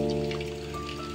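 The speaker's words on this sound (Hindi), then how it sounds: "बारिश इतना ज़्यादा हो रहा है कि बाहर कहीं आना जाना, मतलब निकलना मुश्किल हो गया है।" Heavy monsoon rain pouring onto a flooded, waterlogged village lane, a steady close wash of falling water under a constant low hum.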